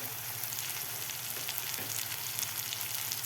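Onion and tomato masala fries in a pan with dry spices like turmeric and coriander-cumin powder, giving a steady, moderately loud sizzle with faint stirring scrapes and no voices.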